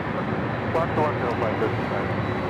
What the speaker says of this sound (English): I'm going to try to zoom in on this aircraft.